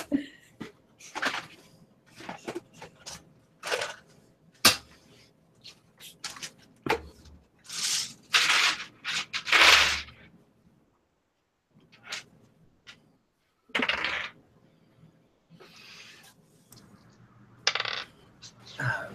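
Dice clatter and roll across a table during a tabletop role-playing game's intelligence check, several separate bursts of rattling and tumbling with quiet gaps between, close and fairly loud.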